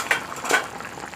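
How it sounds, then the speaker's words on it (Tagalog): Pork afritada stew bubbling in a pot, giving soft, close boiling and simmering noise with a couple of brief louder bursts over a steady low hiss. "kumukulo pa rin"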